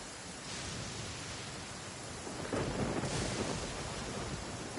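Thunderstorm with heavy rain in the Genshin Impact game, a dense steady hiss of rainfall with a louder rumbling surge of thunder midway, no voices.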